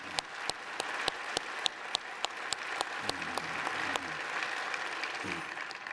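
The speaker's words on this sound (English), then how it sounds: "Please join me again in a round of applause for Shelley and these Space Foundation professionals" An audience at the opening ceremony of the 33rd Space Symposium gives a sustained round of applause, with a few loud individual claps standing out in a steady rhythm over the dense clapping of the crowd.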